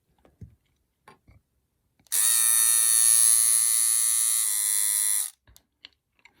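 A Philips Series 8000 BRE740 epilator shaver with its shaving head attached runs with a steady, high electric buzz for about three seconds, close and loud, framed by small handling clicks.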